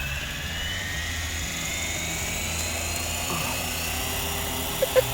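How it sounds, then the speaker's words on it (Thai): An RC AS350 model helicopter with its rotor spinning up to full speed, a loud, steady high whine and buzzing drone close by, continuous throughout with a couple of brief clicks near the end. "รอให้ใบพัดหมุนจุดสุดเสียงแล้วค่อยยกขึ้นไป1 ขีดนะครับ"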